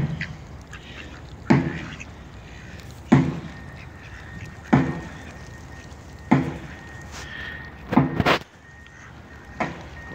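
Ducks at a pond quack in short, loud bursts every second or two, with a few closer, doubled calls near the end over a steady outdoor background.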